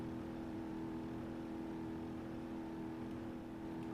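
Diesel engine of a D-Series vehicle on the move, giving a steady droning hum that stays even and moderately loud from start to finish, with no voices over it.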